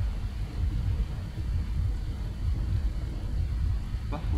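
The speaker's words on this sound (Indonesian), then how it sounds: "Wah, hujan." Rain and rolling thunder in the survival video game LifeAfter: a steady low rumble with a wash of rainfall that continues evenly throughout.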